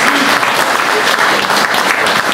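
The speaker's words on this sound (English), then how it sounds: "Can I have a quick round of applause for Charlie Hebdo?" Loud, dense audience applause at a talk on critical journalism, a brief unbroken wash of many hands clapping together close by.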